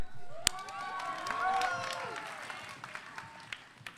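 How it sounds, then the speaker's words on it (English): Brief, light applause from a school audience at a grade 11/12 spoken word event, a few scattered claps and crowd noise with excited voices, tapering off quickly. "Keep that applause going for your next poet"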